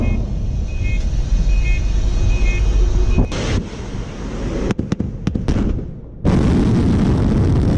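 Sarmat intercontinental ballistic missile launch: a loud continuous low roar that breaks off into a few sharp dropouts and cracks, then surges back as a powerful broadband rumble.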